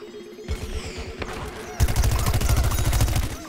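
Rapid automatic gunfire in the shooter game Plants vs. Zombies Garden Warfare. Loud rattling bursts start and stop, then a long sustained volley plays, and a player speaks over it.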